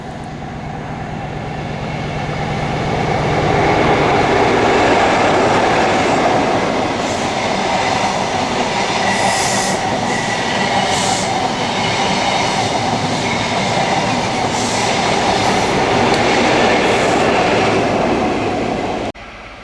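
Train headed by locomotives 43208 and 43304 passing on the East Coast Main Line at Snipe Lane near Darlington, a loud sustained roar and rumble with rhythmic wheel clatter that builds and holds across the pass.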